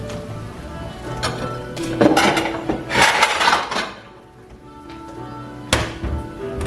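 A plate is set down and arranged for serving T-bone steak, with close clattering knocks and taps of dishware in a kitchen, a few sharp clinks standing out.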